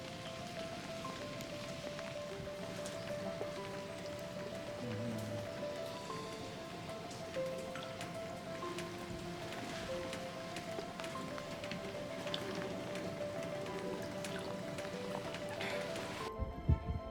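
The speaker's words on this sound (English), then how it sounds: "It was raining, and we decided to explore the area around the house." Rain falls outdoors around a house in Ireland, a steady, even patter that fills the whole stretch at moderate loudness, with faint tonal background sounds mixed in.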